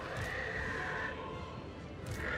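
Horses in a strategy video game neigh and whinny in two drawn-out, high, wavering calls over a dense, steady rumble of game noise, with faint clip-clop beneath.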